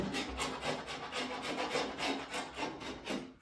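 Close, steady scraping of leftover silicone caulk off a shower surface, repeated rasping strokes in a regular back-and-forth rhythm with no talking.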